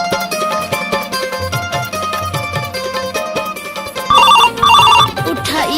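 A telephone rings with repeated electronic ringtone bursts near the end, preceded by a busy mix of sounds in a household scene.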